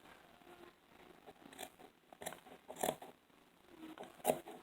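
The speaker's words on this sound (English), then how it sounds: "I'll finish trimming that" Scissors snip through dress fabric in a few separate, quiet cuts spaced irregularly, close by with a faint crunching bite, and no talk over them.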